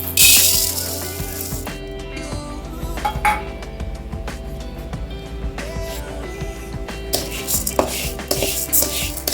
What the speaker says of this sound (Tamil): இப்போ அரிசி வறுத்துக்கலாம். சிம்மில் வச்சு வறுத்துங்க